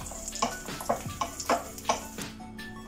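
Cashews and raisins fry in a pan with a steady sizzle, while a spoon scrapes through them in regular, evenly spaced strokes close by.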